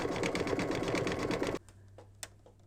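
Embroidery machine stitching the white section of a wintry mug rug, a close, steady rapid clatter of needle strokes that stops abruptly midway, leaving faint clicks and a low hum.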